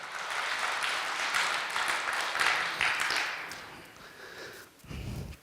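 Quiet, scattered applause from a lecture audience, a few seconds of light clapping that fades before a brief pause.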